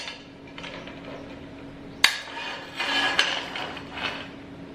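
Metal clamps being fitted onto steel pieces set up as an outside corner joint for MIG welding, giving a sharp metallic clank midway and a few lighter knocks and scrapes against a steady shop hum.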